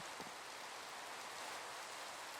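Rain falls in a Minecraft-style survival game, a steady soft hiss that holds evenly throughout with no voices.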